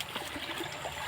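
River water flowing at a rural crossing point among rice paddies, a steady close rushing and trickling wash filling the whole short stretch with no voices.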